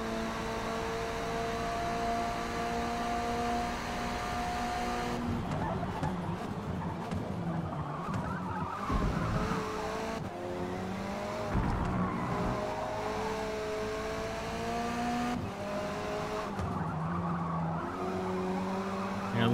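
Touring race car tires squealing in Forza Motorsport, a Peugeot 308 in a race: a steady engine drone is broken by repeated bursts of tire screech and rising revs through corners, with no talking.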